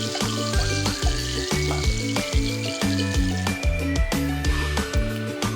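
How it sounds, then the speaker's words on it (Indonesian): Ground spice paste sizzles and fries steadily in hot oil in a pan for a spicy-sweet chicken dish, a loud close crackle with a repeating stirring rhythm and no talk. "Setelah minyak panas, kita lanjutkan masuk bumbunya tadi ya teman-teman"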